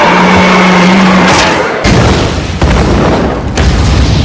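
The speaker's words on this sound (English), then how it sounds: "Kate just chucks a grenade into its mouth and it blows up." Grenade blast killing the creature in the 2011 film The Thing, heard as loud booming explosions with heavy low rumble, a sharp burst followed by further deep thuds.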